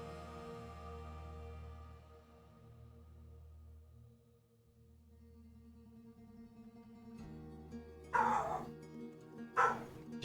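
Dog barking in two sharp bursts near the end, loud and close, over a steady background of low droning horn-like tones.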